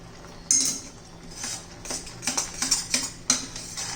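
A spoon or spatula scraping and clinking in a pan as coconut and cocoa chocolate modak mixture is stirred, with irregular close metallic taps and scrapes.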